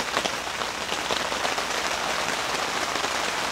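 Heavy rain pours steadily at an outdoor campsite during a campfire meal, a dense, even hiss of drops drumming on surfaces close by throughout, with no voices heard.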